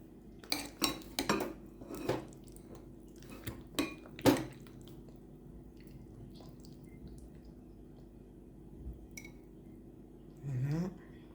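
Cutlery scraping and clinking against a plate while vegetable and fruit food is stirred and mixed, a few sharp clinks early on, then quieter soft scraping with a brief squishy sweep near the end.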